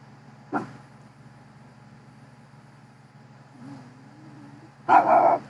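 A dog in a garden gives a single short bark, then after a pause a louder burst of barking close by, over a low steady hum.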